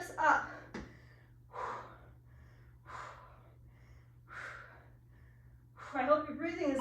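Loud, heavy breaths and gasps during a full-body cardio workout, a few spaced exhalations with a brief exclamation at the end.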